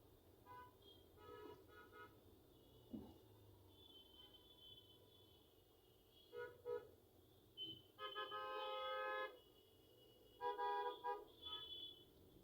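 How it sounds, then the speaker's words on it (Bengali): Car horns honk repeatedly over a low traffic rumble in Dhaka's Dhanmondi area, a mix of short toots and a couple of longer sustained blasts, moderately distant. "অতিরিক্ত হরেন মারা থেকে বিরত থাকুন"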